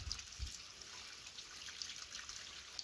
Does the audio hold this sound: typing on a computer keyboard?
no